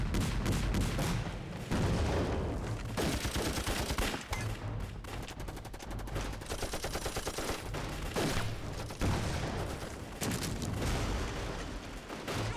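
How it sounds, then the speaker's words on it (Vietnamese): Heavy gunfire in a war film about resistance against Japanese forces, a continuous loud barrage of rifle and machine-gun shots with booming blasts mixed in, pressing on with no letup. "Khai hỏa."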